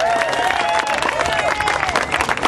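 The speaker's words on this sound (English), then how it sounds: "Let's give him a round of applause" Audience applause and some cheering from a crowd at a liberty-themed rally at Valley Forge, loud and steady, with tonal whistling or voices mixed in.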